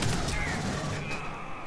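Fire bombs going off in the sci-fi shooter game Aliens: Colonial Marines, a dense, continuous roar of fiery blasts and rumbling booms, loud and close, with faint voice underneath.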